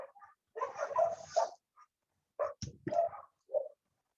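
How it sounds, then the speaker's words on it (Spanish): A neighbour's small dog barks in irregular bursts: several sharp barks and yaps with short gaps between them. It sounds moderately close, with no talking over it. "el perrito de al lado, le dio por ladrarle a todo"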